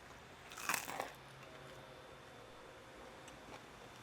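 A bite into a crunchy double-fried chicken wing gives a sharp, close crackling crunch, followed by a quieter second crunch and faint chewing against a hissy background.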